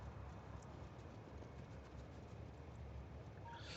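Trains rolling along rails in the factory-building game Factorio, a steady, continuous rumble with faint clatter running evenly throughout, moderately loud with no voices.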